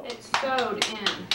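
A child claps at a fifth birthday party, a few separate sharp claps spaced unevenly over a second, with an adult voice speaking throughout.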